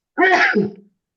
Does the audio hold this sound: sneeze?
yes